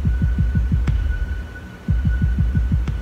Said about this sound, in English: Can I listen to your heartbeat?